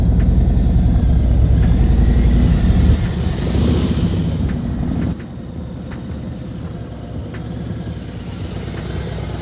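A 2021 Harley-Davidson CVO Road Glide motorcycle engine rumbles steadily as the bike leans through a turn during safety training, deep and close, with its loudness easing partway through.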